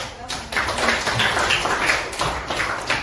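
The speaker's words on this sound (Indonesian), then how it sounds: "fokus semua berarti tepuk tangan" Students clap their hands together in a classroom, a burst of fairly loud, uneven clapping with separate claps audible, mixed with some voices.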